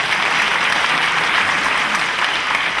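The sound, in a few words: audience applause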